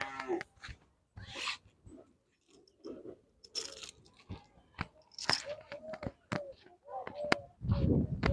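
Onion is chopped with a series of sharp, irregular crunching cuts, close by. Voices murmur in between.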